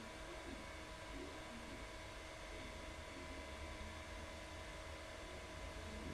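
A small fan blows to dry makeup, giving a faint, steady airy whir that holds unchanged throughout with no talking.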